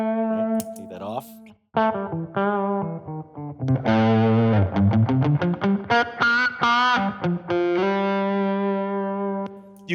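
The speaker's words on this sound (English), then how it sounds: "Take that off." Electric guitar with humbucker pickups played clean with the overdrive pedal switched off, a clear melodic line of sustained notes, bends and quick picked runs, close and fairly loud with no talking.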